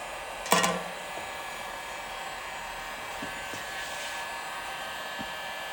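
A heat gun on its low setting blows steadily while heating vehicle undercoating, making an even, fairly quiet airy hiss that runs the whole time after a short click near the start.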